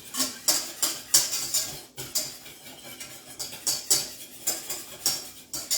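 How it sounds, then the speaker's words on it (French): A tiramisu cupcake mixture is stirred in a bowl, with repeated rhythmic scraping and clinking strokes of the utensil, close and fairly loud, without speech. "Donc on mélange jusqu'à épaississement"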